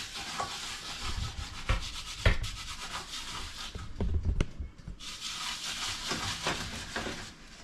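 Hands rub oil and spices into a raw snapper fillet, making close, wet scrubbing and rasping strokes in an uneven back-and-forth rhythm with a few soft knocks.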